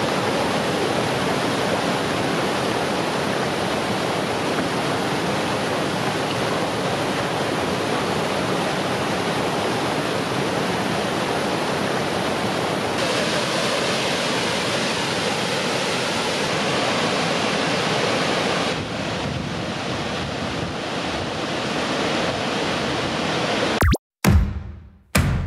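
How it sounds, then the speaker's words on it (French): Lombel waterfall, 60 to 70 metres high, cascades into a valley, making a loud, dense, continuous roar of falling water. It eases slightly partway through and ends with brief abrupt cuts, with no speech. "Les eaux en provenance de plusieurs endroits alimentent une rivière et chutent dans une vallée entourée d'une belle nature."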